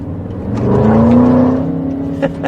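BMW E70 X5 with a V8 engine revs up in a rising, deep, throaty drone that swells, holds and then eases off, heard close from the vehicle.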